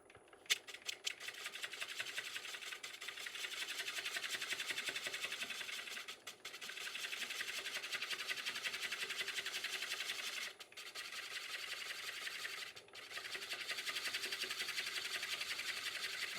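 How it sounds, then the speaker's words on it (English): A spindle gouge makes a shearing cut on a black walnut bowl turning at about 330 RPM on a lathe. The cut is a steady, close, textured hiss that breaks off briefly three times before resuming. "this is just a shearing cut I'm doing with the side of the spindle gouge"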